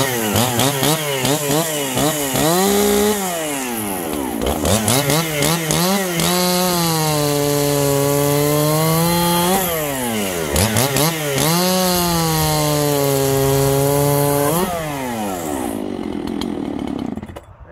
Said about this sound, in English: Bone stock 272, no smoke and mirrors, full chisel chain, nothing crazy. This is a good saw, let's run it.